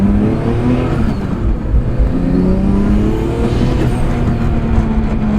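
A four-rotor rotary engine in a Toyota Supra, fitted with a Garrett turbo and no blow-off valve, revs loud and close, a steady buzzing drone rising and holding without pause.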